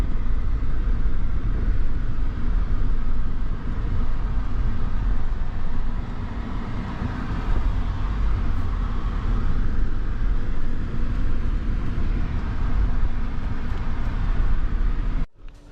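A car drives over a dry former reservoir bed, its engine and tyre rumble loud, steady and close throughout, with a broad low roar that cuts off abruptly at the end.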